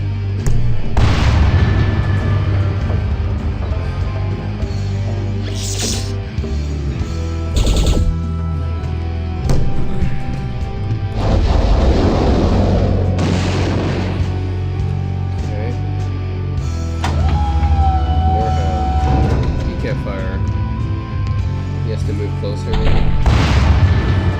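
Artillery fire and explosions from the 1997 PC game Final Liberation: Warhammer Epic 40,000, with repeated loud booms and blasts going off at irregular intervals, one after another, against a steady battle background.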